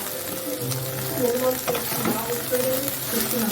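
Potato pieces go into an okra curry frying with mustard and green chilli, bringing a continuous sizzle and stirring clatter of a spoon in the pan, with a voice talking over it.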